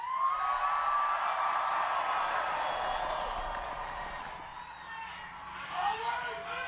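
Large outdoor crowd at a Washington, D.C. rally, a steady wash of cheering and whooping with scattered applause, broad and distant-sounding, swelling again briefly near the end.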